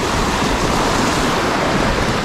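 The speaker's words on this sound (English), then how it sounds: "Waves, can you be quiet?" Waves washing on a bay in remote Tasmania, a steady broadband rush of surf with wind noise, close and continuous, no talk.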